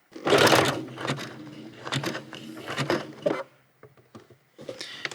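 A sewing machine stitches a one-step buttonhole with the cut mechanism switched off: loud, close bursts of rapid mechanical stitching, a brief pause filled with light ticking, then the machine runs again.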